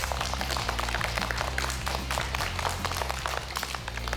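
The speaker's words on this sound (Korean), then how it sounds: "다시 한번 박수로 맞이해 줄까요?" An audience claps for three child finalists at a children's history quiz show in Gwangju. The steady, dense clapping runs the whole way through over a low, sustained music bed.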